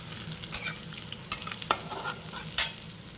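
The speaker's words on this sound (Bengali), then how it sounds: "পেঁয়াজটা হাফ ভাজা ভাজা হয়ে গেছে, এরপর আমি পাঁচফোড়ন, শুকনো লঙ্কা, তেজপাতা দিয়ে দিলাম" Onion frying in a pan as panch phoron, dried chilli and bay leaf are added, giving a soft background sizzle broken by several sharp stirring scrapes, close by with no talk.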